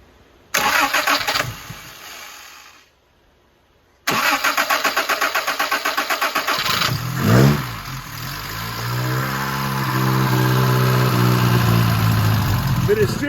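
An old 1984 Toyota Tercel engine cranks repeatedly, pauses, then cranks again and catches, settling into a rough, loud idle that rises as it revs.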